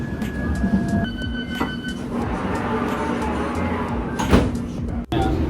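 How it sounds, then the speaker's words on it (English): A London Underground District Line train in motion, loud steady rumble and rattle inside the carriage with tonal whines, a sharp clunk near the end, and voices faintly underneath. "we're taking this train to Upton Park"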